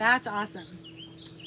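Birds chirp in high, thin calls outdoors, loud and close, after a voice speaks at the start, then continue alone in brief tweets.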